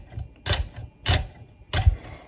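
A kitchen knife slices through an onion on a cutting board in three crisp, evenly spaced chops, each close and sharp with quiet pauses between them and no talking.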